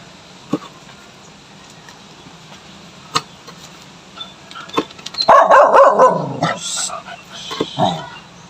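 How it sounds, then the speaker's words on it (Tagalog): Pet dogs bark at an outdoor home cooking spot, first with a few scattered distant yips, then a loud cluster of barks bursting out near the end, with faint voices underneath. "Medyo maingay po itong mga alaga naming aso."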